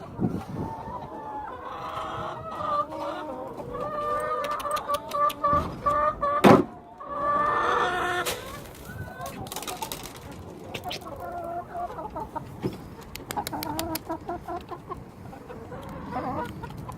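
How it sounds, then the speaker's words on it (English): Backyard hens in a back-garden flock cluck and squawk repeatedly while being hand-fed, a busy close chorus of clucks with occasional sharper calls and some rustling. "It's lovely feeding, really feeding the hens by hand."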